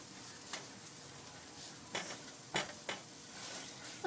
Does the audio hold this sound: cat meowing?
no